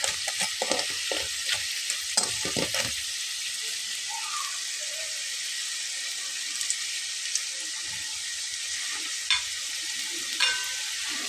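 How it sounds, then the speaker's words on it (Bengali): Aloo puffs deep-frying in hot oil, a steady high-pitched sizzle and bubbling, close and continuous, with a few clatters of a utensil early on and no talking. "কালারটা আরও একটু ডিপ করে ভেজে নিতে পারেন"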